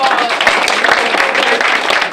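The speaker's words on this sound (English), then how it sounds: "let's give Pam Creekmore a big round of" Applause from an audience at a World AIDS Day press conference in Prince George's County, greeting a healthcare worker: steady, dense clapping with a faint murmur of voices mixed in.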